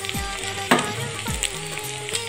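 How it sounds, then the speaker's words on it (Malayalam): Sardine roe frying in a pan on a stove crackles and sizzles steadily up close, with a few sharp spits and pops and the scrape of stirring, and no voices. "ഇതിപ്പോൾ നല്ല ഫ്രൈ ആയി വന്നിട്ടുണ്ട്"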